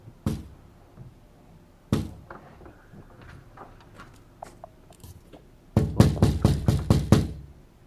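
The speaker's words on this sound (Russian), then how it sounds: "Стучат, слышите?" Knocking on a window at three in the night, heard from a fifth-floor flat: two isolated sharp knocks, some faint small noises, then a fast, loud burst of six or seven knocks close together.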